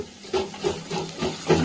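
Onions sautéing in a pan for a home-cooked Tamil kootu, a soft steady sizzle and hiss with a few brief stirring scrapes, close and moderately quiet with no talking.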